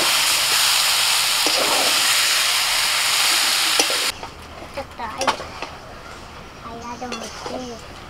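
Marinated chicken goes into a pan of fried ginger and garlic. A loud, dense sizzle fills the first half, then drops to a quieter hiss with clinks of stirring while people talk.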